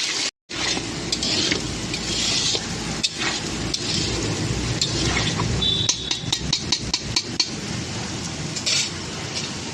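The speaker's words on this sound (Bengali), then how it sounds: "আলুটা আমার হয়ে গেছে ভাজা" Potatoes frying in oil in a pan give a steady, close sizzle, broken by clinks and scrapes of a utensil stirring them toward the end.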